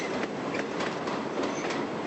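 A train rolls past in a transit station, a steady broadband rush of rail noise with faint clickety-clack, loud and close and continuous throughout.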